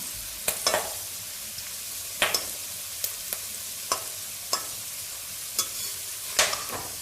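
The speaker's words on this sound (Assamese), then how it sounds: "এয়া আমি এইখিনি এতিয়া ফ্ৰাই কৰি আছো।" Corn being deep fried in a pan, giving a soft continuous sizzle with scattered sharp pops and crackles spread irregularly throughout, fairly close.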